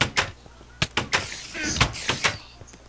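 A door in a video game swings shut among a series of sharp knocks and thuds, with muffled voices of players talking over the clatter.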